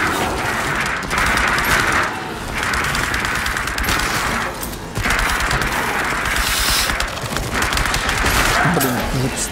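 Sustained automatic gunfire in the VR video game The Dark Pictures: Switchback, with loud dense bursts of rapid shots running in long stretches separated by brief pauses, close and overwhelming the background.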